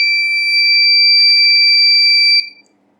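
A piercing, steady electronic tone sounds loudly from an Arduino buzzer module, holds without a break for over two seconds, then cuts off abruptly into near silence.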